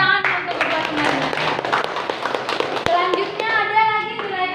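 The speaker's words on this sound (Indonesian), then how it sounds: "tepuk tangan untuk kedua temannya" Classroom applause for two students during a practice teaching lesson, a steady patter of clapping hands lasting several seconds, mixed with children's voices talking underneath.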